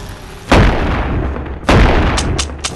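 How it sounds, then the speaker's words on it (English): Shotgun blasts in the video game Animal Company, two loud booming shots with long decaying tails followed by a few quieter sharp pops, no talk. "Oh wait, shotgun."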